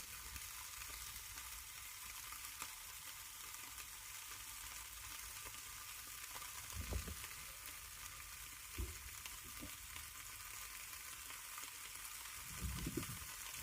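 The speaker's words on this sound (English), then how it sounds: "You can enjoy the sizzle instead." Sweet chilli sausages sizzle in a frying pan with a constant, hissing crackle, joined by a few low bumps and clatters as the pan is handled.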